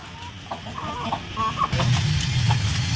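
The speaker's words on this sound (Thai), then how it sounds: "อันนี้ก็ไก่เนาะ" Chickens cluck close by in a farmyard with eggs hatching, short irregular clucks and calls over steady rustling and background noise, getting louder and busier toward the end.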